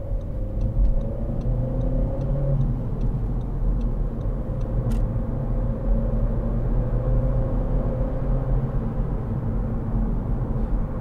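Steady interior road noise from a 2012 SEAT Ibiza 1.4 Sportrider five-door cruising on a motorway, a constant low engine and tyre rumble with faint ticking, no voices.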